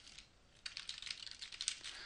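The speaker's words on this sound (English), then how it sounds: "And if I start typing" Typing on a computer keyboard while coding in Flash Builder, a quick run of light, close clicking keystrokes that starts after a short quiet pause and continues steadily, with no talking.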